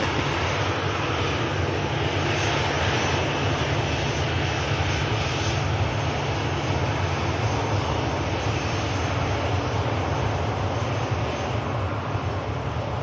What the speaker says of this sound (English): this aircraft's about to head to Budapest